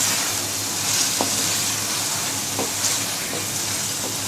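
Chicken leg pieces fry in masala in a pot for an aloo chicken curry, giving a loud, continuous close sizzle with occasional stirring scrapes and clinks.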